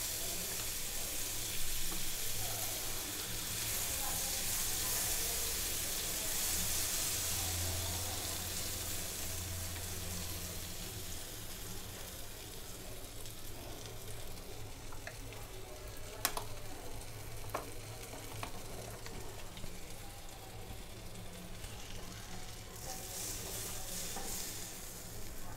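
Two cubes of butter melt in a pan for homemade pasta, giving a steady, close sizzle and crackle that holds for the whole stretch with a few faint clinks and no talking.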